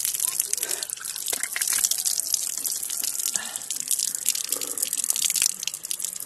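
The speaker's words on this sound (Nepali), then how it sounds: "पानी खानु पर्यो, यस्तो धारा हो" An outdoor water tap runs in a steady, splashing stream, with voices talking over the flow.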